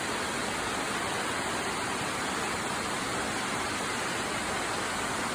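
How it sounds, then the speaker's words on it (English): The larger waterfall on Collins Gulf in Tennessee pours with a steady, even hiss of falling water, close and uninterrupted, with no voices. "Above these lower falls is this larger fall"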